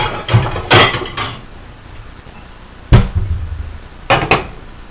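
Plates handled in a home kitchen while chicken quesadillas cook, with a few sharp, separate clatters of crockery set down or knocked together, close and fairly loud, with quiet pauses between.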